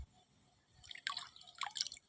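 Water trickles and drips into cupped hands, a quiet splashing that builds from near silence into irregular close drips and spatters for about a second.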